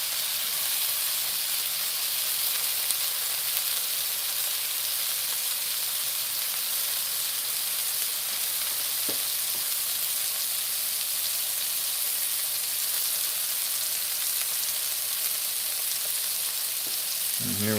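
Garlic cloves fry in a pan with king trumpet mushrooms, a steady, even sizzle and hiss lasting throughout, close and continuous, with a faint clink near the end.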